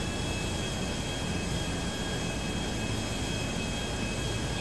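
Helicopter flying in GTA V on PS3, heard as a steady, dense broadband rotor and engine roar with a faint high whine, running evenly throughout without talk.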